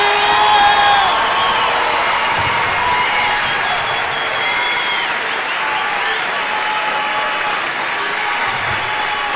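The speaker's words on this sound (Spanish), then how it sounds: "Fuerte el aplauso" A comedy show audience applauds loudly and continuously, dense clapping mixed with scattered cheers and whoops filling the whole stretch without letup.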